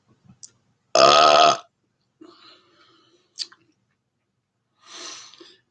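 One loud, close, drawn-out burp lasting about half a second, followed by a few faint mouth clicks and breathy sounds and a softer short exhalation near the end.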